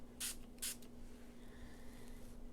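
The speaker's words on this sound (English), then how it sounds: "we're going to take our sprayer with water in it" A handheld sprayer filled with water gives two quick, close spritzes along the top edge of an inked card, then goes quiet apart from a low background hum.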